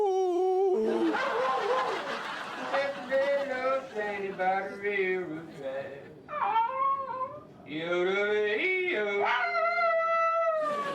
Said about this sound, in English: you're sitting on your sofa yodeling with your dog